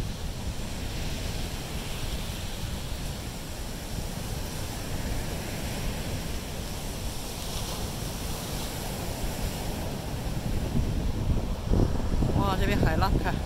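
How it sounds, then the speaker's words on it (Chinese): Ocean waves and strong wind at a Miami beach, a steady rushing wash of surf with wind buffeting the microphone throughout, a voice briefly heard near the end. "哇呀，好大的浪哦啊，所以好像今天风有点大啊"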